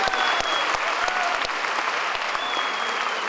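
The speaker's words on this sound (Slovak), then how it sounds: "Prosím, veľký potlesk pre týchto dvoch." Audience clapping for a pair of cosplayers dressed as Alexiel and Lucifer from Angel Sanctuary at the Istrocon 2012 convention, a steady dense applause with sharp individual claps throughout, close and continuous.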